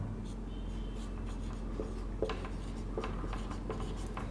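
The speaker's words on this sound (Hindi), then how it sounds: "मैं लिख रहा हूँ" Writing on a board during a class 11 physics lesson on work, energy and power makes steady, repeated scratchy strokes at close range over a low background hum, with no talking.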